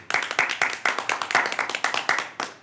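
An audience claps at the start of a talk show: a steady, moderately close patter of hand claps for a few seconds, with no speech over it.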